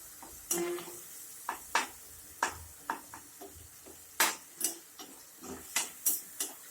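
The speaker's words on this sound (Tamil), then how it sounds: "நல்லா அந்த தக்காளி சுருங்கி வரணும் அந்த லெவலுக்கு நல்லா வதக்கி எடுத்துக்குவோம்" Tomatoes sautéing in a pan for a greens (keerai) thuvaiyal, with a spatula scraping and stirring in a dozen or so sharp, irregular strokes over a soft, steady sizzle, close by and with no voices.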